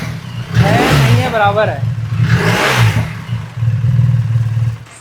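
A BMW R1300 GS motorcycle's exhaust rumbles at idle with a throaty revving swell midway, close and loud, while someone speaks over it.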